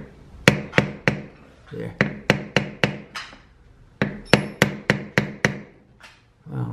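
Sharp metallic taps on the nut of a Rickenbacker bass during a refret, in two bursts of about eight quick strikes each, close and loud, with a brief spoken word between them.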